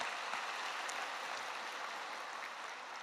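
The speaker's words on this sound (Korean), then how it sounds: "큰 박수로 하나님께 다시 한번 영광 돌립니다." A church congregation at a Sunday worship service applauds, a steady dense patter of many hands that holds evenly throughout and tapers only slightly at the end.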